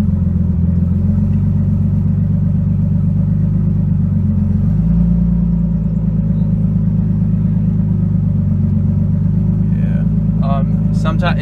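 Nissan 240SX engine idling after a cold start, a loud, close, steady low rumble that holds even throughout, with a few brief clicks near the end.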